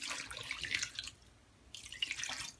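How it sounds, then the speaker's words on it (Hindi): Water is poured into a cooking pot while a curry is being made, two bursts of splashing, pouring liquid separated by a brief quiet gap, close by and with no talking. "इसके बाद इसमें डालेंगे पानी"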